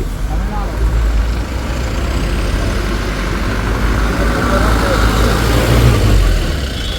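A Tamil Nadu vehicle moves along a road near Erumeli, its low engine rumble and road noise loud and close for the whole stretch, with voices mixed in.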